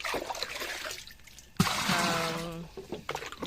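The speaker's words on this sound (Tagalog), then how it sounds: "Nag-iipon po ako ng tubig kasi yung tubig namin may schedule yung tubig namin." Water runs from a tap at night while containers are filled, a trickling pour that swells into a louder, rising gush midway, with some soft background noise.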